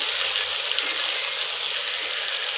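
Spice paste with onion, ginger and garlic, plus potato and egg, stir-fries in oil for a Kolkata methi egg curry, giving a steady, even hiss of sizzling close by with no pauses.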